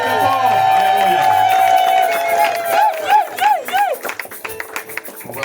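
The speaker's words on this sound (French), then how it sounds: "On acclame le Seigneur très très fort." A church wedding congregation in Ivry cheers and claps loudly over sustained music and singing, with a jumble of voices and uneven bursts of hand claps building toward the end.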